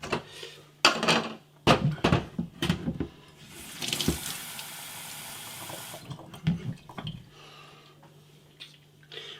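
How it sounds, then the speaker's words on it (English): Water runs from a tap into the Pinter home-brewing keg while a double IPA is being made, a steady rushing fill in bursts with clinks and knocks of equipment around it, close and moderately loud. "I'm going to put a bit of water in here."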